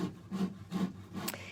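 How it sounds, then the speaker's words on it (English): Wood being hand-sawed for new shelving in the background, a soft rhythmic rasp of about three back-and-forth strokes, fairly faint and distant. "if you hear that noise in the background, that's Mark sawing"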